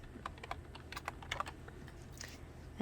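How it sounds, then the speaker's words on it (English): Quiet clicking of keys being typed on a computer keyboard in an irregular run of taps, close and fairly soft, with no talking. "can't type today"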